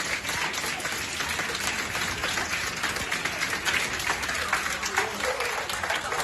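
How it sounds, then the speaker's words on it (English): A crowd at a Tucson City Council meeting applauds steadily and loudly throughout, dense clapping with some cheering mixed in and no pause. "You can listen to the crowd."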